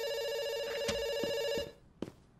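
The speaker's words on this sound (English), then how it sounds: "It's ringing." A telephone rings in the video game Dr. Langeskov, The Tiger, and The Terribly Cursed Emerald. Its steady electronic tone is cut off partway through, and a few faint clicks and knocks follow.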